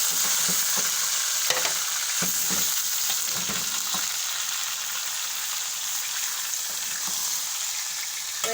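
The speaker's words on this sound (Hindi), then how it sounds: "अब मैंने आधी प्याली ऑयल डाल के इसके अंदर ये छोटी सी प्याज डाली थी, ये गरम" Keema fries with onion in hot oil in a pan, a close, steady sizzle with occasional stirring scrapes and clinks, no voices.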